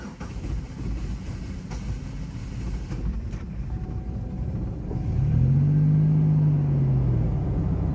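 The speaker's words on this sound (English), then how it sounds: "now I'm gonna crank the engine over." A hard-starting Pontiac engine churns under the starter for several seconds, then fires and settles into a loud, steady idle with a rising hum.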